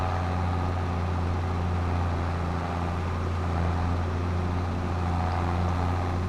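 Vintage tractor engine driving in Farming Simulator 22, a steady low droning rumble with constant hum, unchanging and continuous throughout.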